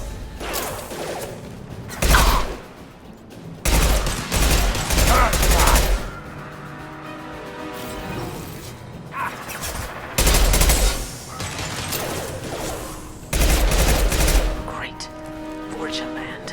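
Loud bursts of rapid gunfire and impact shots in Mass Effect 2 come in several separate volleys, each a couple of seconds long, with low ambience and speech in between.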